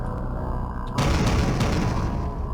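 Video game explosions burst in as a sudden, loud broadband boom about one second in, followed by sustained rumbling, crackling blasts that persist to the end, with a steady low drone underneath before the first blast.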